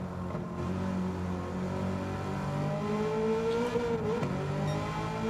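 A GR.3 race car engine in Gran Turismo 7 at Watkins Glen hums steadily under load, its pitch climbing gradually, then dropping briefly in a shift and rising again, loud and continuous.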